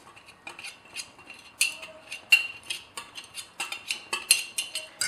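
Rice paste is whisked into milk to make phirni, and the whisk clinks quick and bright against the pot in a fast, uneven rhythm. The sound is close and light, with no talking.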